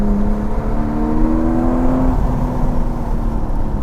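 An Aston Martin Vanquish engine pulls steadily up from around 1,000 rpm, a loud, continuous low roar with a slowly rising tone, heard close and alone without talk.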